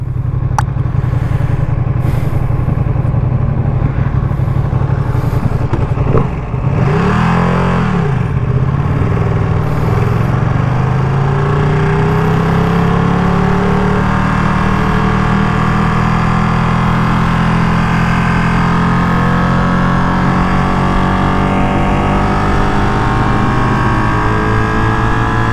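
A brand-new 2023 limited-edition Ducati Panigale V2 runs hard on the freeway, its loud, close engine drone holding steady with wind rush. The pitch shifts and dips once around a gear change before settling into a long cruise.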